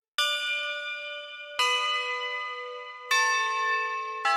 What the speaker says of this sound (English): I've recently started to use tubular metal bells. Tubular metal bells in a lot of my music.